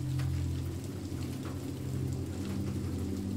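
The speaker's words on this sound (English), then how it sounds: "you peer out at the dark blue lake as raindrops race down the windows." Steady rain streams down windows overlooking a lake at night, a dense, even patter with a low constant rumble beneath and no clear thunderclap, no voices.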